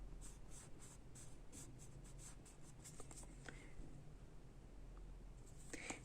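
Pencil sketching on paper while drawing an oesophagus histology section, with steady soft scratchy strokes and rhythmic short dabs over a faint background hum, close and quiet.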